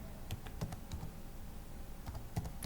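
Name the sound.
typing on computer keyboard in PowerPoint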